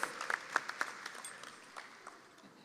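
Scattered, thinning claps from a graduation audience, a few sharp nearby claps at first that fade into sparse, quieter applause.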